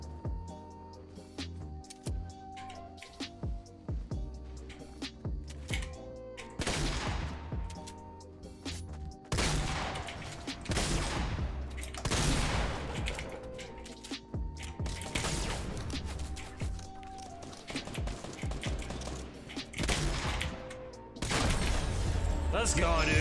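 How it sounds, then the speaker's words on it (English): Rapid gunfire from a multiplayer shooter video game plays through most of the clip, with bursts and explosive booms at varied distances over a steady layer of game sound and music. "They're probably gonna try to shoot me down."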